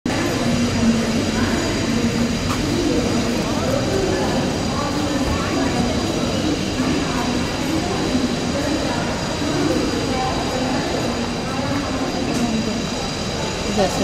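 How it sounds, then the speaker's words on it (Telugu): Steady rumbling of local trains at Panvel railway station, a continuous loud platform din with rail noise and faint crowd murmur throughout. "ఇది పన్వేల్ స్టేషన్. ఇక్కడ నుంచి చూపిస్తా పదండి"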